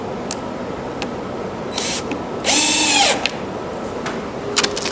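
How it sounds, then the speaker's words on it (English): Power drill driving screws into the stanchion of a wooden fishing pole rack, a brief high whir followed by a louder, longer burst of drilling, amid light workshop clatter. "connecting the stanchion with glue and screws"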